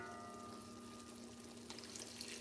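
Water is poured into a cooking pot of fried pork in a home kitchen, a soft steady splashing stream that grows a little brighter toward the end, with no talk.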